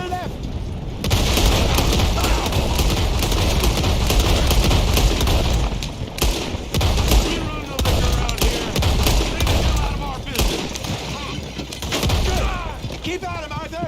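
Rapid gunfire in the Western video game Red Dead Redemption 2, with bursts of overlapping shots and booming reports coming one after another, loud and close, with a few brief pauses and game voices in between.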